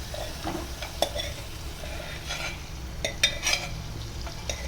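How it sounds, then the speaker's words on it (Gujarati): Boiled mung beans added to masala sizzle quietly in a pan while a spoon scrapes and stirs, with a few sharp clinks of metal against the pan. "આપણે તેમાં બાફેલા મગ નાખી દઈશું"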